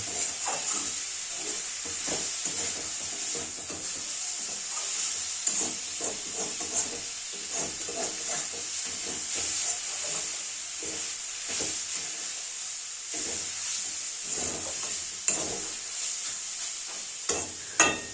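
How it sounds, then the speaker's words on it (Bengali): Khesari greens are stirred slowly in a hot pan, a close, steady sizzle broken by repeated scraping and rubbing strokes of the spatula, with no voices. "খুব ধীরে ধীরে ধৈর্য ধরে অল্প আছে এটা নাড়াচাড়া করতে থাকবেন"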